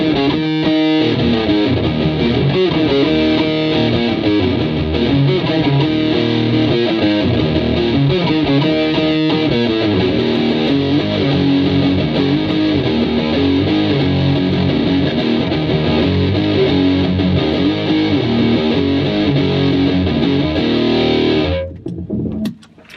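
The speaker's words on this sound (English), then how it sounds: "Let's do the same little riff, intro and riff with the fuzz pedal now." Electric guitar intro and riff played through a fuzz pedal, a thick saturated buzzing tone that continues steadily and loud for about twenty seconds before cutting off abruptly at the end.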